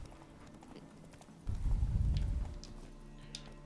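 Horse hooves clip-clop in a video game, a brief, fairly faint burst of rhythmic low thuds in the middle against quiet game ambience.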